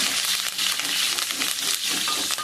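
Cumin seeds, mustard seeds, garlic and curry leaves frying in hot oil in a pan, a steady, close, crackling sizzle that holds throughout without talk.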